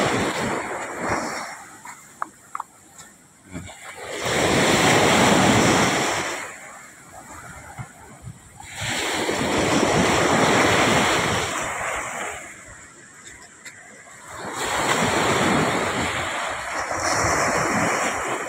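Waves at a shoreline where a river meets the sea roll in as rhythmic surges, each swelling into a loud wash and then receding, repeating several times with wind noise between.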